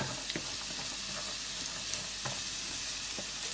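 Small diced squash cubes cooking in a pan for risotto, giving a steady, dense sizzle and frying hiss throughout, with faint clicks of stirring and no voices.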